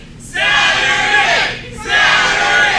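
A loud wrestling crowd at a women's title tournament event erupts in cheers and yells, a surging roar that dips briefly before swelling again into another burst of shouting.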